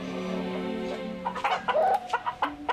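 A fighting rooster clucks in a long drawn-out call, then gives a string of short, sharp clucks close to the microphone.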